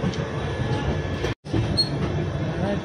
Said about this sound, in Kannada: ಜಸ್ಟ್ ಟ್ರೈನ್ ಬಿಡ್ತ್ರಿ ಈಗ ಆಫ್ ಟು ಕ್ಯಾಸರ್ಲ